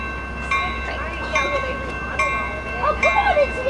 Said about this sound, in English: Cab guard 2306 will be leading this train inbound to downtown San Diego.